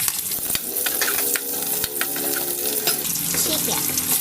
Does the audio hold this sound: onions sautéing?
yes